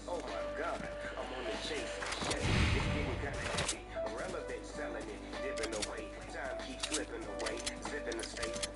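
Scattered gunshots crackle at a distance in Fortnite during the Star Wars live event on PS5, sharp transients spread across the clip with one louder burst near the middle, over steady game music and a voice.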